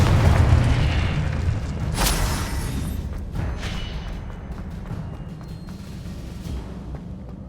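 A Confringo spell explosion in the video game Hogwarts Legacy, a loud, low boom at the start that fades into a dull rumble, with a couple of lighter pops after it.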